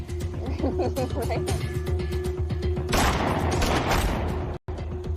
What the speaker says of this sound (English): Jake, can you please quit it with the fireworks?